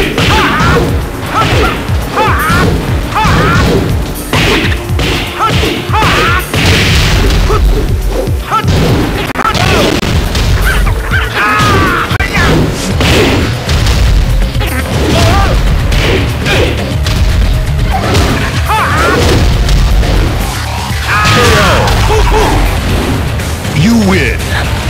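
Lei and Jin Kazama trading hits and combos in Tekken 8: loud, relentless smashes, thwacks and booming impacts with whooshes, layered with in-game character shouts and voices throughout.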